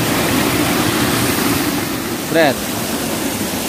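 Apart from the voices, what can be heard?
flowing water of a clear fresh spring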